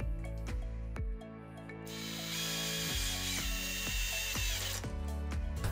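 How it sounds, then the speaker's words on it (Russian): Black self-tapping screws driven into a wooden casting mold with a power drill, in short bursts of whirring separated by brief pauses, close and clear, with no talking. "А зафиксирую каждую сторону на черные саморезы."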